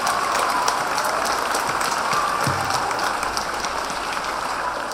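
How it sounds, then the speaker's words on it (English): A crowd applauds at a St. Paul's feast celebration, a steady, even wash of many hands clapping for several seconds at moderate volume, with no speech over it. "So let us give a great applause for him for agreeing to this and"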